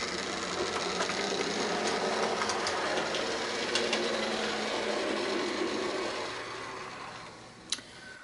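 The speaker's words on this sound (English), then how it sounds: "And we can also send the DMU on its way to Great Chesterford Junction." A model railway diesel multiple unit (DMU) runs on a layout with a steady, buzzing motor hum and faint clicking from the track, fading slightly near the end, with one sharp click just before it stops.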